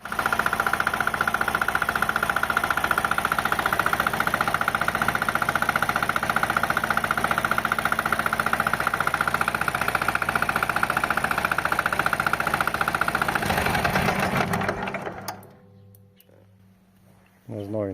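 A small engine fitted with a reduction gearbox idles on a loose mount, a steady loud droning hum with rattling vibration that runs for about fifteen seconds before cutting off abruptly, leaving near silence.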